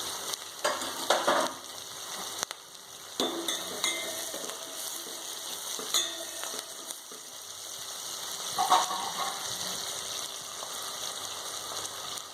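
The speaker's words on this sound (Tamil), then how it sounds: "எண்ணெயில் வெங்காயம் நல்லா வதங்குது." Onions frying in oil in a pan for a potato poriyal, a steady soft sizzle with occasional clinks of a utensil stirring, moderately close and alone without talk.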